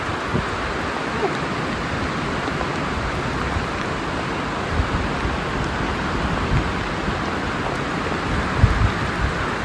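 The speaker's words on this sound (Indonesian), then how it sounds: "Sebenarnya dari tadi tuh nggak hujan yang deras banget sih, gerimis-gerimis." Steady broadband rush of light drizzle and strong wind on Mount Lawu, a constant dense wash of noise with small gusty swells and no voices.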